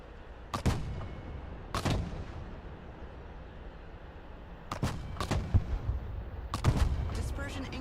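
Artillery fire mission in the strategy video game Broken Arrow: several booming artillery shots in separate bursts, two early and a tighter cluster later, loud and close over a low battlefield rumble with faint radio-style voices.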